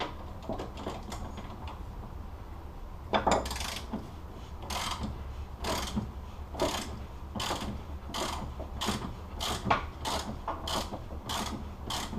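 A hand ratchet works a nylock nut loose on the front suspension of a Datsun 240Z. Sharp, close ratcheting bursts repeat roughly every half second to a second after an opening stretch of quieter fiddling.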